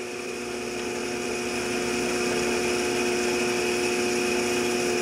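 A ShopSmith 10ER woodworking machine fitted with a slow speed kit runs steadily, a continuous close motor whine with strong tonal hum that swells slightly at start-up and then holds even throughout.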